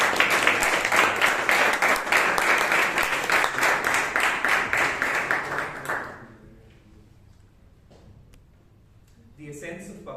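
Audience applause at a Toastmasters club meeting in Bangalore: rhythmic, fairly loud clapping for about six seconds, then fading to near silence, with a voice beginning to speak at the end.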